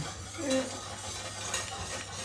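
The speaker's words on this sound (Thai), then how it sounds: "เราก็คนส่วนผสมทุกอย่างให้เข้ากันนะคะ แล้วก็ เคี่ยวต่อไปเรื่อยๆ จนแป้งสุกค่ะ" Stirring a thickening cake-filling mixture for a Black Forest cherry cake as it simmers in a pot, with soft scraping and faint clinks of a utensil against the pot, close and quiet.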